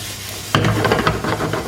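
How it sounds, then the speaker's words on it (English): Vegetables hit a hot pan over high heat, and a loud, close sizzle and crackle starts abruptly, continuing steadily with light stirring scrapes. "So we just want to fry this until they get soft."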